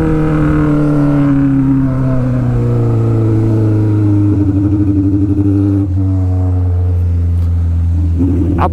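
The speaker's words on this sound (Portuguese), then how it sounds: "mas moto passa rapidão" A Honda Hornet motorcycle roars past close by, its pitch sliding steadily downward as it speeds away, with a brief clatter near the end.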